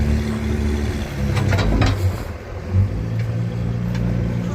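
Vehicle engine revving steadily under load while tugging an old John Deere 4040 tractor, a loud continuous low rumble with brief surges and rattling, heard close without talk.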